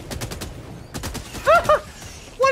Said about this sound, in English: What am I getting shot at for?